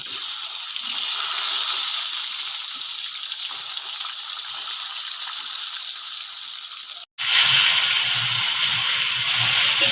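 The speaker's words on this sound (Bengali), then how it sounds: "এইবারে কড়াইতে দেওয়া হলো ভেটকি মাছ" Barramundi (bhetki) fish frying in hot oil in a wok, a loud, steady, close sizzling hiss that cuts out for an instant and then returns just as strong.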